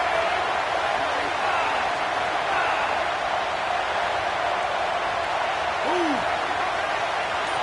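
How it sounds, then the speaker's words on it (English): A football stadium crowd roars on third down, a steady, loud wash of cheering that holds without letup. "Decibels rising as the crowd gets behind this defense on third down."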